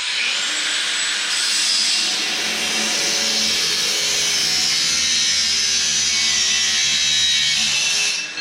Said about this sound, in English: we'll take the grinder and we'll switch the disc